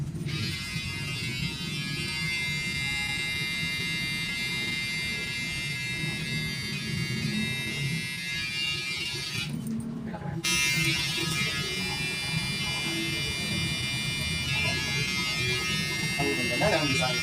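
Hair clippers cutting a hair tattoo design with a heart during a low taper fade, a continuous close buzzing whine that pauses briefly midway, heard alone without talking.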